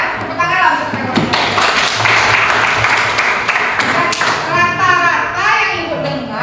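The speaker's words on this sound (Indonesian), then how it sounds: "Tepuk tangan lah untuk mereka." A classroom of students claps in a short, ragged burst of applause, close and fairly loud, mixed with children's voices and chatter throughout.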